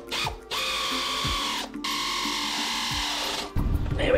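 A ratchet tightening the top alternator bolt on an 80 Series Land Cruiser, heard as close, steady mechanical whirring and clicking runs broken by short pauses.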